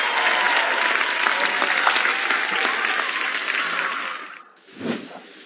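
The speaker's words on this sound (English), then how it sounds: "applause." Canned applause from the Are You Smarter Than A 5th Grader PC game, a dense steady burst of clapping lasting about four seconds before cutting off, followed by a brief low thump.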